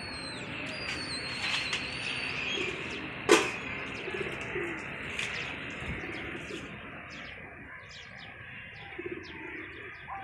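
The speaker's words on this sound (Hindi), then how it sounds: "ये कबूतर आ गए" Pigeons cooing and calling close by outdoors, soft repeated coos mixed with chirps and a brief louder sound partway through, over a quiet background.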